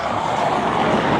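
Steady traffic roar from trucks passing along a city avenue, a continuous close rumble and hiss with no voices over it.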